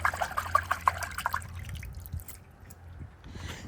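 Liquid poured out of a crystal-filled geode, a short burst of splashing dribbles and drips close up that trails off into quiet.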